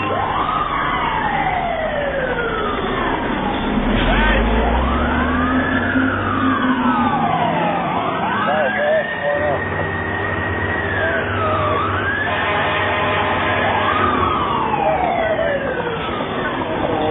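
A fire engine's wailing siren rises and falls in repeated sweeps over a rumbling truck engine as it responds to an alarm in New York, fairly close and loud throughout.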